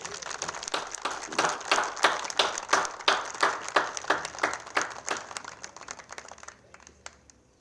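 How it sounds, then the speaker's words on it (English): Audience applause for an inductee at a baseball hall of fame ceremony: crisp, fairly even hand claps from a small crowd, rhythmic and close, holding steady before thinning out and fading toward the end. "Please give him a big round of applause."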